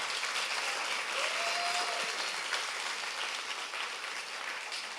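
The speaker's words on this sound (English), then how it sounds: "So give a round of applause to the Parallel 18 team." Steady, even audience applause fills the room for a startup demo day, honoring the Parallel 18 team, sustained at constant loudness throughout with no talk over it.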